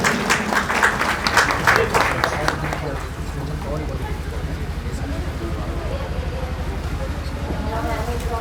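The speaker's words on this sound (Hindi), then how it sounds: "तो सभी लोग ताली बजाएंगे।" A congregation at a church inauguration ceremony claps together, a crisp burst of many hands in the first few seconds that fades into a low, steady background rumble with voices speaking over it.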